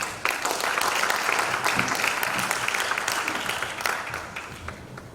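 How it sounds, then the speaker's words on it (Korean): An audience at a Chongshin University development plan presentation applauds to welcome a speaker, a steady patter of clapping at moderate level that slowly fades toward the end. "박수로 환영해 주십시오"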